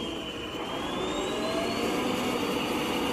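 A Deebot N8 robot vacuum cleaner whirs steadily at close range, a continuous motor hum with a faint rising whine, no voices.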